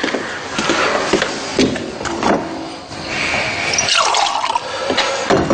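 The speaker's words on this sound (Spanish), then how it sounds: "Te voy a servir un poquito de agua." Water is poured into a glass in a quiet domestic room, a continuous splashing, trickling pour rising in pitch as the glass fills, close and fairly loud, with light clinks and handling sounds and no talking.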